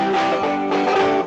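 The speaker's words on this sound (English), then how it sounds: "Another annoyingly happy hillbilly song." A cheerful hillbilly-style tune in a major key, played loud and steady with sustained harmonic tones throughout a short excerpt, no voices.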